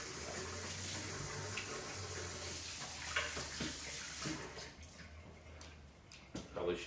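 Hands washed under a running kitchen tap give a steady hiss of flowing water for several seconds, then the flow stops and a few faint splashes and clinks follow.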